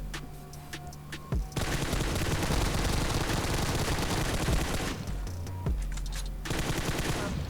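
Sustained bursts of rapid automatic gunfire in PUBG Mobile, loud and nearly continuous, with brief pauses between volleys.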